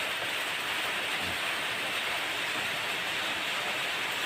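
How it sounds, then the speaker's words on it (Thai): Steady, dense hiss of rain falling, constant throughout with no pauses, fairly close and moderately loud. "ฝนก็ตกพอดีครับ"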